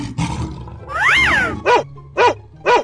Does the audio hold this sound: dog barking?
yes